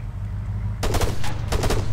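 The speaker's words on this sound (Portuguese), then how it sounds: "Tá vendo que os caras atiram dali," A quiet hum, then bursts of rapid automatic machine gun fire in ArmA 3 crackle in two short volleys, moderately loud.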